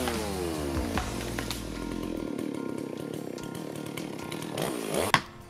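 A chainsaw clearing land at a remote cabin roars close by, its engine pitch wavering as it bites into tree wood, then revving up sharply near the end before dropping off.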